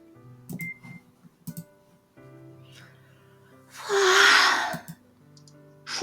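A game character from OZMAFIA!! gives one drawn-out, breathy "fwa" yawn, loud and close, after a few short soft vocal sounds and quiet background music.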